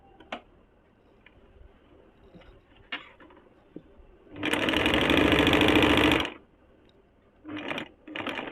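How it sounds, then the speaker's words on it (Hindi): A sewing machine stitches a kurti seam half an inch in: a steady, close whirring run of about two seconds, followed by two short stitching bursts, with faint handling clicks in between. "इसको 1/2 इंच पे सिलाई कर लेंगे"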